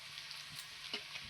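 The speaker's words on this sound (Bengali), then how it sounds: "পেঁয়াজ ভাজা হচ্ছে" Sliced onions fry in hot oil for biryani birista, a steady soft sizzle with faint crackles and a few light stirring scrapes, close and fairly quiet.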